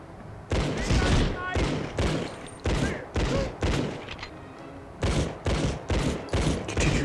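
Repeated bursts of gunfire from the Medal of Honor video game, loud stuttering volleys of a second or so separated by brief pauses, with a player's voice talking over the shooting.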